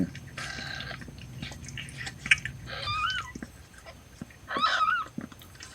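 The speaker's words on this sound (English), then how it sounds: "That's Bartlett, you hear meowing." Several thin, high kitten meows from a newborn rescue cat's litter rise over soft suckling, shuffling and wet nursing sounds, with a couple of short mews near the middle and end.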